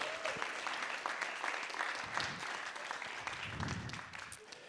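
An audience at a comedy festival conference applauds in a moderate, steady patter of clapping heard from a little distance, with faint murmuring under it.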